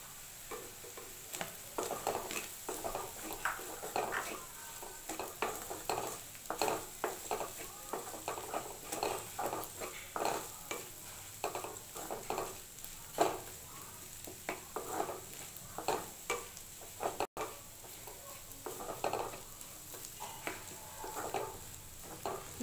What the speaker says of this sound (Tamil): இப்போ இதில் எக்கு செஞ்சு வச்சதே கலந்துக்கலாம்.